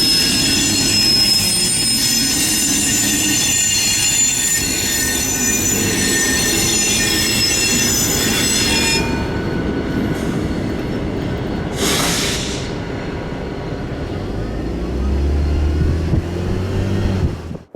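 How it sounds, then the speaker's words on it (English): Wheels squeal loudly and steadily as a locomotive shoves two condemned BNSF hopper cars through a rail yard in Galesburg, Illinois, with a brief screech spike and low rumble near the end. "we came across 2955, now shoving those 2 BNSF hoppers"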